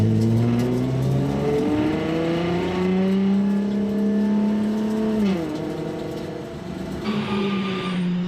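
Race cars rolling off on the formation lap of the 24 Hours of Nürburgring, a loud, close engine note that climbs steadily in pitch, dips briefly as it shifts, then settles and carries on.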